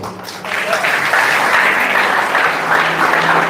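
A congregation at a healing revival service in a ballroom breaks into applause, clapping swelling after a quiet start and holding steady, with voices mixed in.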